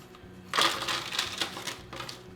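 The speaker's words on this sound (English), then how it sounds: "I usually just put them in like a plastic bag and then just crush them up in my hands." Oreo cookies are crushed by hand inside a plastic bag, giving a steady crackling and crinkling of crumbling cookies and plastic that lasts nearly two seconds, close and moderately loud.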